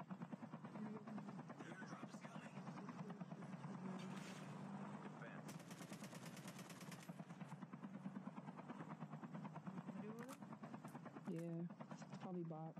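Helicopter in a video game, a steady rotor drone running beneath frequent player chatter, with bursts of game sounds and brief gunfire-like pops in the background.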